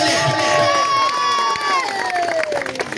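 An outdoor crowd at a cricket tournament prize ceremony cheers and shouts for the runner-up team, a loud continuous wash of voices with high calls and whoops layered over it.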